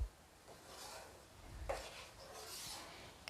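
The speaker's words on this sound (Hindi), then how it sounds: "इसे डालने के बाद मैं इसे अच्छी तरीके से चलाते हुए भून लूँगी" A spoon scrapes and rubs through a coconut mixture roasting in a pan for mango laddu, giving soft, quiet, intermittent stirring strokes with a few faint clinks against the pan.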